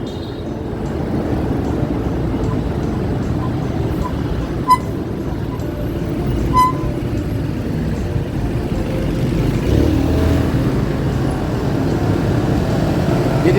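An FKM Fekon Rev X 125cc motorcycle rides along at steady speed, with a continuous broadband engine and road rumble holding even throughout and a couple of faint brief ticks partway through.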